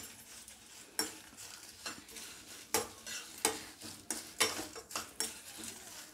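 Red chillies and lumps of asafoetida dry roast in a pan for idli podi, with a spoon scraping and tapping against the metal in quick, irregular strokes, close and fairly faint, with no voices.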